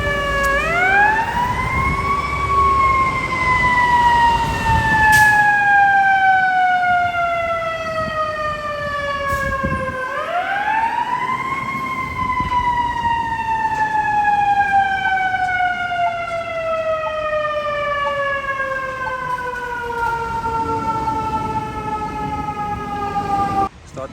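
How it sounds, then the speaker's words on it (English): Fire engine siren wailing through a New York City street, a loud electronic wail rising and falling in long sweeps repeated about every ten seconds over steady traffic noise. "This is what it looks like on the streets of New York City when a fire engine is coming through."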